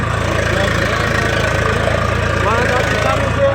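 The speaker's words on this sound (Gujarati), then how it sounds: "અહીં ટ્રેક્ટર એને ચાલુ કરી દીધું છે." Tractor engine idling on a farm, a loud steady low rumble with an even rapid throb running throughout, close by, while a person talks over it.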